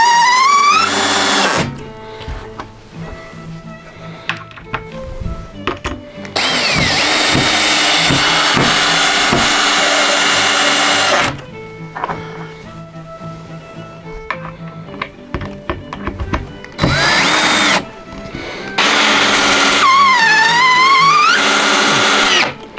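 A power drill drives screws into a new wooden layout table for a model railroad, its motor whining in several loud bursts of a few seconds each, separated by quieter pauses with light handling noise.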